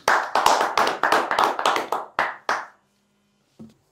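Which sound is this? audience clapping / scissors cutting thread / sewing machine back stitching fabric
audience clapping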